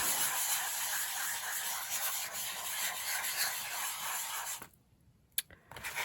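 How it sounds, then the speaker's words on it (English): A brush rubbed back and forth across cereal box card, a steady close scratchy rasp that runs for several seconds, then drops off into near silence with a faint tap. "Took the brush and just rubbed it like this."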